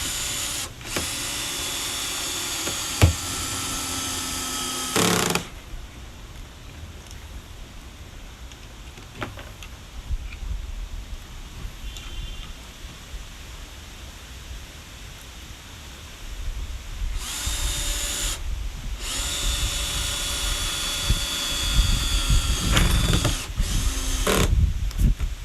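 A power drill drives screws into deck boards on a hot tub deck, with bursts of loud motor whine at the start, around five seconds, and again from about seventeen seconds on, separated by quieter handling and ambient noise.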